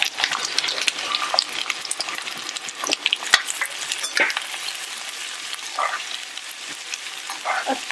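Thinly sliced raw onions hitting hot oil for aloo kanda Maggi, a loud dense crackling sizzle that runs unbroken throughout, with occasional sharper pops and stirring scrapes close by.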